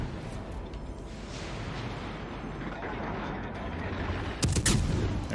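Heavy naval guns firing in World of Warships: a low rumbling battle bed that breaks into a loud, close salvo of booming shots near the end.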